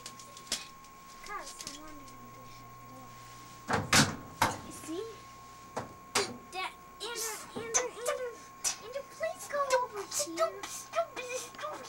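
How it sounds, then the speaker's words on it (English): A household door is shut with a loud thud near the start of the busy stretch in a 1999 home setting, followed by several more knocks and bumps while children and adults talk and shout over it. "can you please shut the door?"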